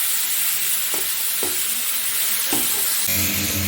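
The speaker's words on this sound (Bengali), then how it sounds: "তেলের মধ্যে টমেটোটা দেওয়ার পর একটু তেল খুলে নাড়াচাড়া করে নেব 2-3 মিনিট।" Chopped tomatoes fry in oil for a chutney, a loud dense sizzle filling the whole moment while a spatula scrapes through a few times at a steady pace.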